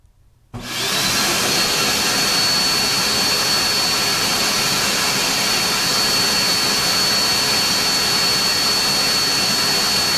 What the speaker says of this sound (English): shop-vac first, what I currently have